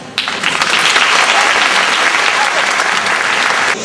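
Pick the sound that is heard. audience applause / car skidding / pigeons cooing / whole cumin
audience applause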